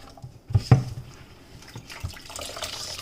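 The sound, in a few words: water being poured onto grated coconut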